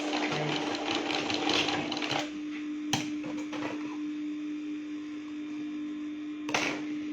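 An electric sewing machine stitches crepe fabric for an open abaya in a steady close whir, with a short pause and a couple of sharp clicks from the mechanism, no talking.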